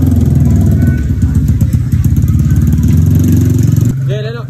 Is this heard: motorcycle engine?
yes